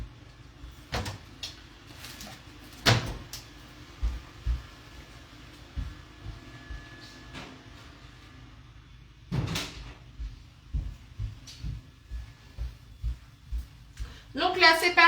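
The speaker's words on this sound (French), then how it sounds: "je vais aller fermer ma porte" Door being shut in a home kitchen, a few sharp thuds and knocks separated by quiet stretches, with a voice talking nearby.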